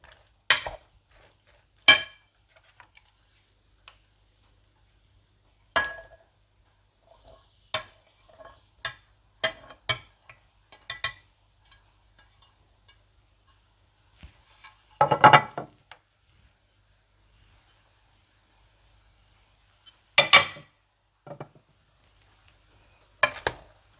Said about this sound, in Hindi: इसके बाद इसमें सारी सब्जियां, ऑलिव्स और स्वीट कॉर्न डालकर मिला लें।